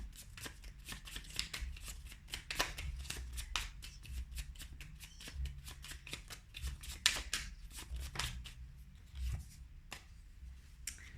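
Homemade tarot cards being shuffled by hand in a long, steady run of soft riffling and slapping, close and fairly quiet, with no voice over it.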